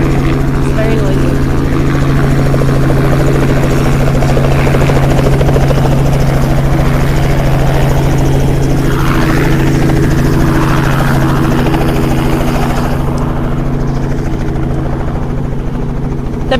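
A helicopter flies overhead at an outdoor gathering, a loud, continuous rotor drone that fills the whole stretch while a voice speaks faintly underneath.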